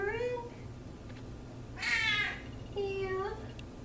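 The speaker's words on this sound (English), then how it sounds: "Her meow has become more of a yell." A female house cat yells out several loud, insistent meows in quick succession, close by over a low background hum.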